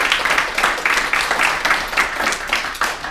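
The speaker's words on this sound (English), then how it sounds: "I just want to give a great big round of applause" Audience applauding after a tech conference presentation on synthetic APIs: dense, steady clapping from a crowd at moderate loudness, sustained throughout without pause.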